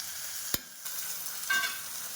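Cabbage and potato frying in a wok, a soft sizzle of vegetables broken by one sharp clatter near the start and a brief swell of stirring noise.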